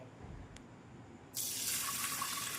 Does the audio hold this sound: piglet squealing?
no